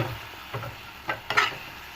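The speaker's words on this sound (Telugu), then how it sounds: "ఒకసారి కదపండి మొత్తంగా." A ladle stirs a thick coconut laddu mixture with cardamom powder in a pan, giving a few soft scraping strokes and faint sizzles at close range, with no talk.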